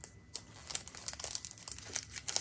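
Paper crinkles and rustles up close as basic border craft dies are unwrapped during a catalog unboxing, a run of quick, soft crackles with no talking.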